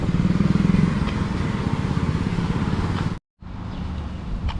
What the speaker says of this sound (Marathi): गाड्या वगैरे जाताना दिसतात म्हणजे वर्दळ आहे